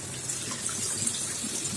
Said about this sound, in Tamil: இப்போ புளி தண்ணி கொஞ்சமாக சேர்த்துவோம்